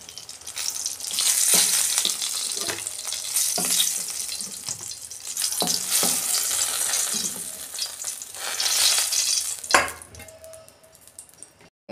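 Fried eggplant pieces hiss and crackle in hot oil as they are stirred and lifted out, with occasional utensil clinks against the pan, close and continuous before a sharp clank and quieter settling at the end.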